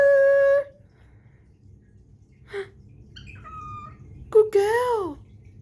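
A pet bird gives a few short chirps and whistled calls, one near the start and a rising, bending call near the end, close and fairly loud over low background noise, with no talking.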